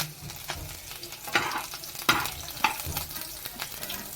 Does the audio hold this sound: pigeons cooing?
no